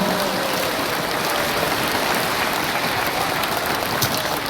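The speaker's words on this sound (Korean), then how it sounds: "여러분 다시 한번 우리 양재곤 회장님께 박수 한번 쳐드리면 좋겠습니다." A crowd at a Liberation Day political rally applauds steadily, a dense wash of many clapping hands that continues evenly throughout without pause.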